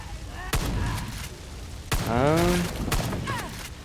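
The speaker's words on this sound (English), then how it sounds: "Looks like they're exploding midair." Gunfire and explosions from the video game Far Cry 5: a few sharp broadband cracks spaced apart, with a voice speaking between and over them.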